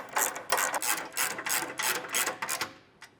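A ratchet snugs up 13 mm skid plate bolts on a 2024 Toyota Tacoma during a TRD skid plate install, rattling in steady bursts of rapid, close clicking for several seconds with no voices.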